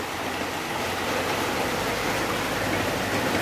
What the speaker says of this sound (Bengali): প্রচণ্ড বৃষ্টি হচ্ছে আমাদের এইদিকে।